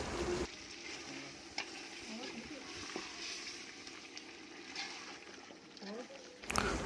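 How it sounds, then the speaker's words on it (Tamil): Chicken masala with curd being stirred in a pot for country chicken biryani: soft, continuous scraping and wet stirring, quiet and close, with faint talking in the background. "தயிர் ஆட் பண்ணிட்டு கொஞ்ச நேரம் கிளறி விட்டுக்கிட்டே இருக்கணும்."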